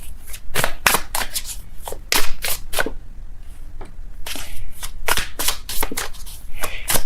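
Tarot cards are shuffled and riffled by hand in a close, quiet room, a series of sharp, papery bursts and flicks arriving in irregular clusters with brief gaps between them.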